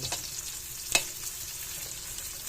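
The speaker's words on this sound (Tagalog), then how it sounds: "pababrown na natin yung longganisa. Mix na natin guys yung gulay." Longganisa sausage and vegetables fry in a pan for pancit, a continuous close sizzle with a single sharp clink of the spatula partway through as the mix is stirred, with no talk.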